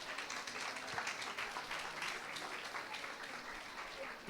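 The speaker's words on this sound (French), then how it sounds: "vous méritez, vous, une bonne main d'applaudissements" Audience applause at the launch of a homelessness awareness night in Saint-Jean-sur-Richelieu, steady dense clapping filling the room throughout without a break.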